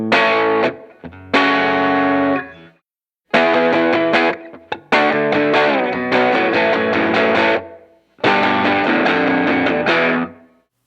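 Fender Jag-Stang electric guitar with both pickups in phase, played through distortion: loud crunchy chords and riffs in several bursts, each ringing out and then cutting to silence.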